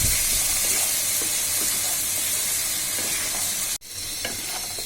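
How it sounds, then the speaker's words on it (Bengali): Vegetables with turmeric powder fry in a pan, a steady close sizzle and hiss with soft stirring scrapes, cut by one sharp knock near the end before the frying carries on. "এবার আমি এটাকে ভালোভাবে নাড়াবো"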